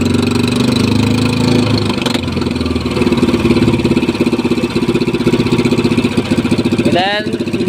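A machine engine runs with a steady, close mechanical drone and a slight rise in its rhythm midway, while people talk over it throughout.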